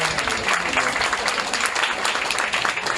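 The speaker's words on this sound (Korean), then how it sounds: "저기 뒤에 서 계신 분, 박수" A congregation applauds during a Korean Sunday church service, a dense continuous patter of many hands clapping at close range, loud and steady throughout.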